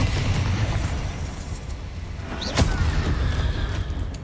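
The Bombarda spell in Hogwarts Legacy detonates as a deep, rumbling explosion with a sharp burst in the middle, loud and close over a heavy low roar.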